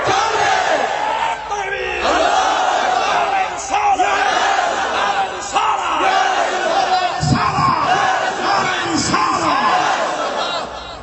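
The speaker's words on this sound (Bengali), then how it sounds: "তিনবার বলি ইয়া রাসূলুল্লাহ।" A large crowd at a Sunni religious rally loudly chants the slogan "Ya Rasulullah" in unison, a roaring massed call repeated in waves and echoing across an open gathering.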